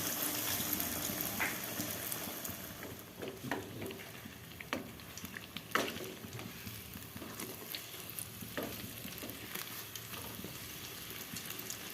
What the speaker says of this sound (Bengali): এইভাবে এইবার এটা তেলে ভেজে এটা আমি তেলে দিয়ে দিচ্ছি